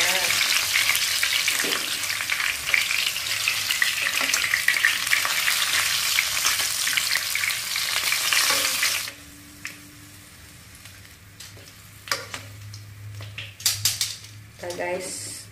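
Fish and garlic fry with a loud, steady sizzle in a pan while a utensil stirs and scrapes, followed by quieter clinks of cutlery and pans once the frying stops.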